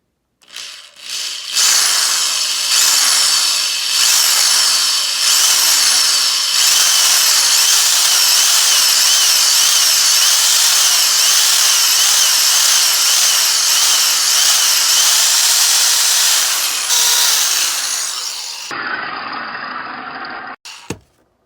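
A handheld power drill runs loudly and steadily, spinning a wood carving burr, for most of the stretch, with brief starts and stops near the beginning and a sputtering wind-down at the end.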